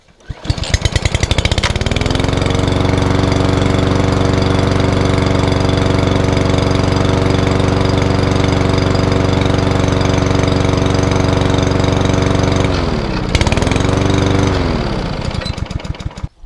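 A small petrol lawn mower engine, just primed and started, fires up after a few quick pulls and settles into a loud, steady chugging run close by. Near the end it briefly stalls and dips, then catches again and keeps running. No one talks.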